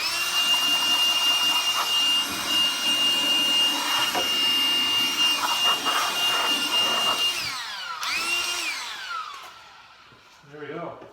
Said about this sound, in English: we'll use the old Ryobi blower